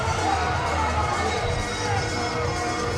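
A stadium crowd at a Savannah Bananas baseball game cheers and shouts continuously for a child dancing, a dense roar of voices with children's shrieks, fairly distant and steady.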